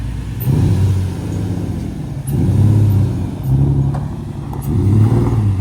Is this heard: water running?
no